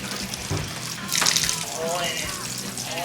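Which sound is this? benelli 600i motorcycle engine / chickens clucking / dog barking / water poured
water poured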